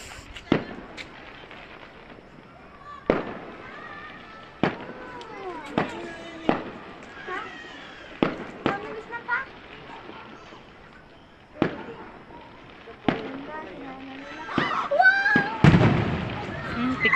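Fireworks bursting at a display in La Trinidad, Benguet, with sharp loud bangs at irregular intervals, some crackling and whistling between them, and voices talking and children shouting in the background.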